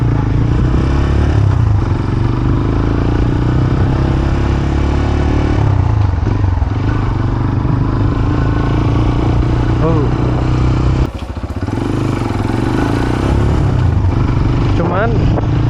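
A CF Moto Papio 125cc six-speed motorcycle engine drones steadily while riding, loud and close, with road clatter and wind throughout.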